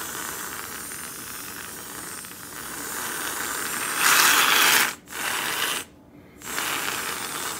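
Whipped cream hisses from a pressurized can onto a Nespresso coffee drink, a steady spray that swells louder for a burst, then breaks off in short pauses before hissing again.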